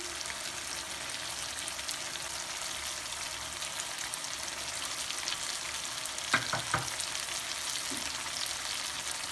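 Chicken karahi fries with a steady, fairly loud sizzle as chopped green chillies, ginger and coriander go into the pan, with a few short clattering drops near the end and no voices.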